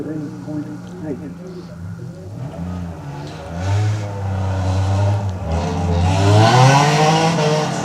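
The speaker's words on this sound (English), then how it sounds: "Peter Rogers, Datsun 1600. He's approaching the tight turns." A Datsun 1600 climbs a hillclimb course toward tight turns, engine note rising and falling through gear changes and growing louder as it nears, heard under a commentator's running talk.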